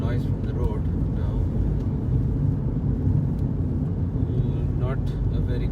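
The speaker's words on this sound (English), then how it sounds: "You can also hear the noise from the road now." Steady road traffic noise heard from inside a vehicle on a drive from Bengaluru toward Bhutan, a continuous low rumble with faint passing whooshes and a horn-like tone near the end.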